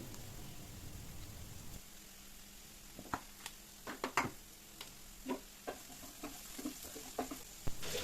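Chana masala with coriander leaves sizzles softly in a pan, with a low hiss at first and then a scattering of scraping and tapping stirring sounds; quiet overall.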